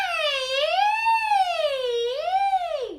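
A singer's voice imitates an ambulance siren, sliding up and down in a smooth, loud, wailing sweep that dives low at the end, heard alone.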